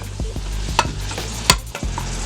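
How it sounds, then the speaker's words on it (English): Two heaping tablespoons of minced garlic being stirred in a Power Pressure Cooker XL for minestrone soup, with a soft sizzle and a few light scrapes and taps of the spoon against the pot, close and without talk. "We're going to mix that up in there just a little bit."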